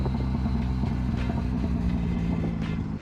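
A turbocharged Mazda Miata idles in a home garage with a steady, deep rumbling hum and low throb, loud and close, continuous until it cuts down near the end, with no voices.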